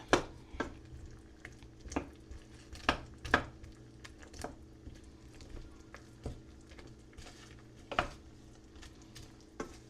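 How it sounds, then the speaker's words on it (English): A spatula breaking up gnocchi in a pan over a gas burner, sharp repeated scraping taps and clacks at an irregular rhythm over a faint low sizzle. "Let me get a different spatula here to kind of break these up."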